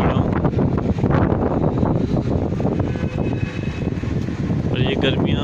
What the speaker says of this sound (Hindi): ये आपको आंधी की आवाज़ आ ही रही होगी